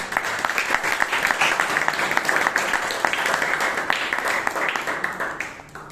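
An audience applauds at a Toastmasters meeting in Bangalore, a dense, steady burst of many hands clapping together throughout.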